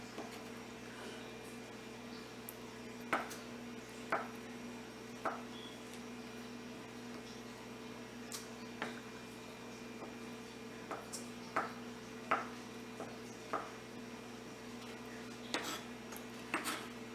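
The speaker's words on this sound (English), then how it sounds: "take 3 of our eggs and we're going to chop those up really tiny" A knife chops boiled eggs for potato salad on a cutting board, with sparse, separate taps spread unevenly over a steady low background hum.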